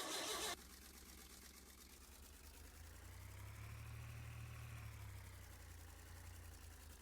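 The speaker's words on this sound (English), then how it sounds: "Now this is the flathead V8, so it sounds quite a bit different from the flathead 6." A flathead V8 engine in a hot rod build runs quietly at a low, throaty idle, its rumble swelling slightly midway and then holding steady, with no one speaking.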